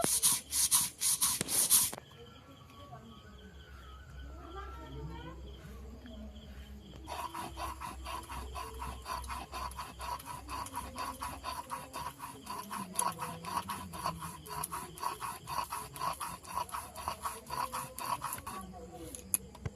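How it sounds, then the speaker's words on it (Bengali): Poppy seeds are ground to a fine paste for a fish, potato and eggplant dish, giving steady rhythmic rubbing and scraping strokes on a grinding surface that continue close and fairly loud after a brief opening burst. "পোস্তটাকে আমি একদম মিহি করে বেটে নেব।"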